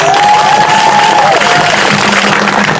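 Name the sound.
crowd applauding and cheering for a speaker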